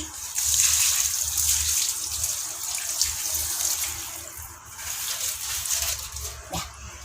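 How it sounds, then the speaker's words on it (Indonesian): Rice water pours onto garden plants in a continuous, hissing stream that splashes onto the soil, close and fairly loud, easing off and resuming briefly toward the end. "Air beras ini kita akan siram di tanaman supaya tanamannya tumbuh subur seperti ini."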